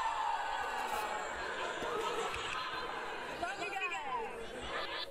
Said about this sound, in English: That's a pretty decent crowd.